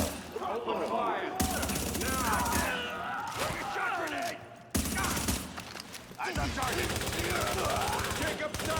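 Light machine gun fire blasts in long, rapid bursts in a shooter game, loud and close, with two sustained volleys separated by brief pauses and some game voice chatter underneath.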